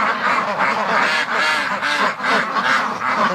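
Several ducks quack loudly and repeatedly in a barn, close by, in overlapping bursts with no talking.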